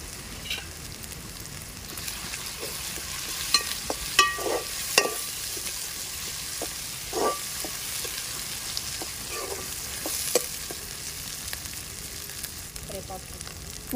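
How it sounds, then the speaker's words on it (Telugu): Ginger, garlic and turmeric sizzle steadily in an oil-filled pan while being stirred for a Telugu-style mutton curry, with scattered clinks and scrapes of the spoon against the pan over a continuous frying hiss. "అల్లం వెల్లిగడ్డ వేసుకున్నాక మంచిగా కలుపుకోవాలి."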